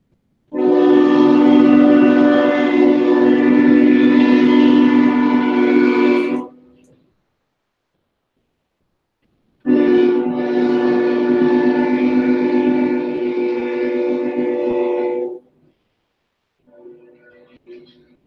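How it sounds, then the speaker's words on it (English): A huge train passes close by, its horn blaring in two long, loud blasts of several seconds each, separated by a pause, followed by a fainter short sound at the end. "The train is huge."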